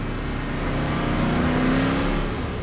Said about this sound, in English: It made a distinctive engine noise.